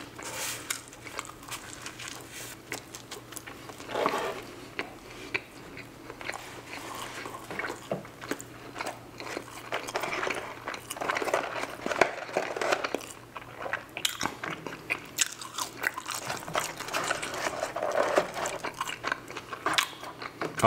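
Chewing and biting into Jollibee fried chicken up close during a mukbang: repeated crunchy bites and wet chewing in an irregular rhythm over a faint background hum, with no talk.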